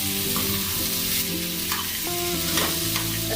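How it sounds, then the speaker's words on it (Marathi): Potato bhaji frying in a pan with peanut ghee is stirred, giving a steady close sizzle with scraping and clinking of the spoon against the pan and no voices. "छान हलवून घेऊया."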